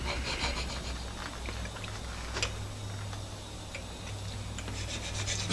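Metal part of a lathe compound slide being smoothed with a fairly coarse hand file, producing repeated raspy scraping strokes at close range over a low steady hum.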